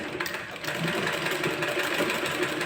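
A sewing machine stitches a blouse, humming and clattering in a steady, fast, close run that starts after a brief softer moment and continues evenly to the end.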